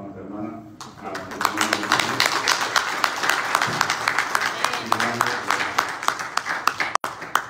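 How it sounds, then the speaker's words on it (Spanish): Applause from a church congregation welcoming a sister at a worship service, dense sustained clapping filling the room for several seconds, with a voice speaking faintly over it. "vamos a darle la bienvenida con un aplauso a nuestra hermana"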